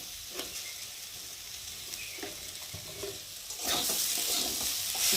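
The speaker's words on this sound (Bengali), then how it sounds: "চিনির সাথে ভালো করে একটু ভেজে নিয়ে নামিয়ে নেবো।" Snake gourd stir-frying with sugar in a pan, giving a continuous close sizzle with intermittent stirring scrapes that grows louder and hissier toward the end, with no voices.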